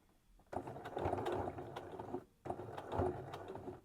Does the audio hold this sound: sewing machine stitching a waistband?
yes